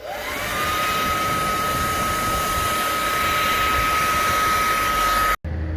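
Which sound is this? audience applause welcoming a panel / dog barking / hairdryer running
hairdryer running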